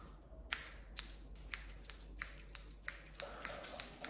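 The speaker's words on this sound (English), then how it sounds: "So I'm gonna use two scissors." Scissors snip hair during a close haircut, sharp quiet clicks at a steady pace of roughly two per second, with small handling rustles between cuts and no talking.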